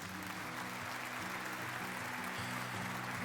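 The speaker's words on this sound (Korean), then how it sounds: "박수로 모시겠습니다." Steady applause from an audience at a Korean church gospel event, continuous and fairly even, with a low musical hum running underneath throughout.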